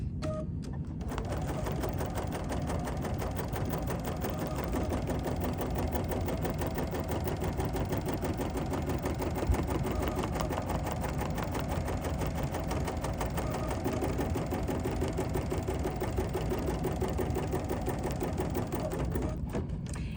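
An embroidery machine runs a basting stitch, a fast, steady mechanical clatter of needle strokes that continues evenly and close by from start to finish, with no talking.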